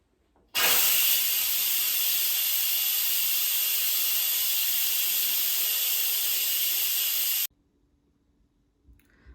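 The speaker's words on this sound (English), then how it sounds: "so let's quick release the steam" A loud, steady hiss of steam blasts from an Instant Pot pressure cooker's quick release for about seven seconds, then cuts off abruptly, leaving near silence.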